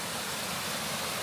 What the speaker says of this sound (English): Sound of a waterfall.